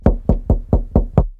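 Six evenly spaced knocks on a door in a steady, brisk rhythm, loud and close with no voices.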